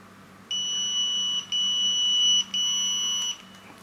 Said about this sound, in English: The pager will beep and vibrate.